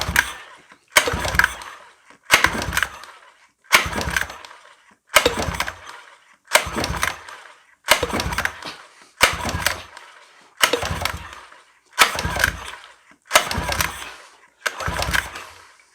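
Repeated pulls on an outboard engine's starter cord, about a dozen rough rasping strokes in a steady rhythm, each followed by a short pause, while the dry-of-fuel motor never catches.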